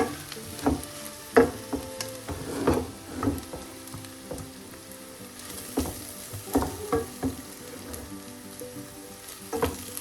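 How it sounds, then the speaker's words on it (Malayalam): Small shallots and spices sautéing in a pan for small-onion chicken curry, a close, steady sizzle broken by repeated scraping stirs at irregular intervals, with no voices. "ഇത്രയും ചേർത്ത് നന്നായി വഴറ്റാം"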